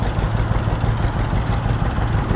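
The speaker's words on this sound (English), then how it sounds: "There's a 30 Caterpillar." A Caterpillar 30 tractor idles at a steam era show, a loud, close, low engine rumble with a steady throbbing pulse and no talk.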